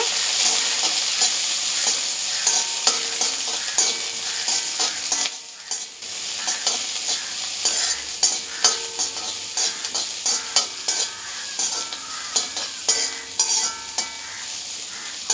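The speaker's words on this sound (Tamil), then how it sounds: "ஒரு அஞ்சுலேருந்து ஆறு பல் பூண்டு இதை நல்லா வதக்கிக்கோங்க" Five or six garlic cloves sautéing in oil for a mint chutney, a bright continuous sizzle with repeated rhythmic spatula scrapes and stirs against the pan, close and loud, with a short dip midway.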